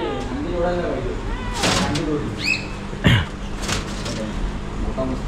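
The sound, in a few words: sun conure parrot calls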